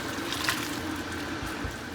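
Water from cooked pasta poured off into a sink makes a steady, fairly close trickling and splashing stream, continuous for two seconds with no talking.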